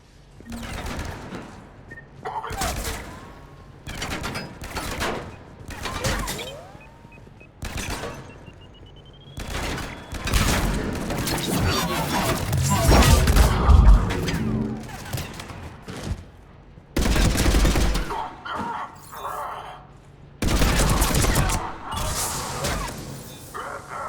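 Gunfire in Mass Effect 3, a soldier fighting through an armed base: repeated bursts of shots with loud, sharp cracks and a few heavy booms, scattered across the whole stretch, mixed with effects and brief voices.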